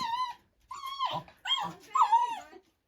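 A dog whimpers and whines in several high, wavering bursts with short pauses between them, close by.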